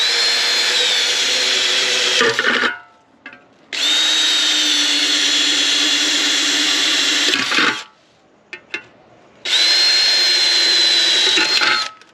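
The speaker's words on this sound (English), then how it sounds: "I think I'm finished drilling holes for now" A power drill bores holes in a metal can for a hobo stove, three long whining bursts separated by short pauses with small clicks between them.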